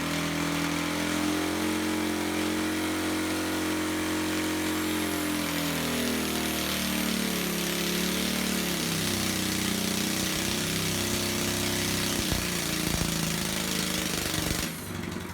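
A 212cc Predator overhead-valve small engine with bolt-on modifications runs steadily and loudly throughout, its continuous rumble shifting in pitch partway through as if throttled, with no talk.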